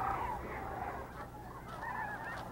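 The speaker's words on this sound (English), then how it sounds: "The cranes and geese on the refuge have grown accustomed to people" A flock of geese honking continuously at Bosque del Apache wildlife refuge, New Mexico, many overlapping calls blending into a dense, steady outdoor din.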